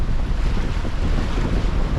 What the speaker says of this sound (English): So the wind is picking up a little bit